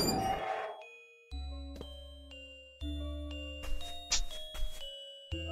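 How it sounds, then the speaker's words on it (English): Warning bell shattering in the horror video game Misao: a bright metallic strike, then a series of ringing chime tones and sharp glassy bursts, loud and echoing, with no voices. "The warning bell shattered."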